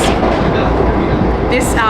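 A Vande Bharat Express semi-bullet train between Mumbai and Ahmedabad rolls steadily on its rails, heard loud from inside a sealed air-conditioned carriage, with a continuous rumble and a brief higher squeal near the end.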